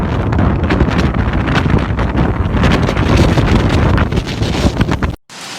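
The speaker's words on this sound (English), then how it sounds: "heavy rains and gale-force winds swept across the city" Heavy typhoon rain and gale-force wind sweeping across Hong Kong, a dense, loud, continuous roar of buffeting gusts and rain, close and unbroken, cutting out abruptly near the end.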